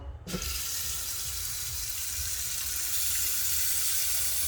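Tap water runs steadily into a pot for making tea, a continuous hissing splash that starts abruptly and stays loud and close, with no voices.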